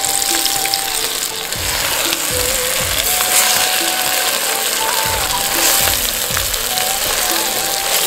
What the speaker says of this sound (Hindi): अब तेल में तले हुए बैंगन डाल लें।